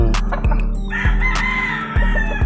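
A rooster crows loudly nearby, a drawn-out call rising and falling, amid clucks and a rhythmic low thumping in the background.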